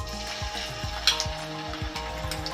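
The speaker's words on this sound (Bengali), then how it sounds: "এবার আমি আদা আর জিরে বাটাটা দেবো 1 চামচ।" Ginger and cumin paste sizzling in a hot pan while cooking bottle gourd with poppy seeds: a quiet, steady frying crackle with soft bubbling pops and faint stirring.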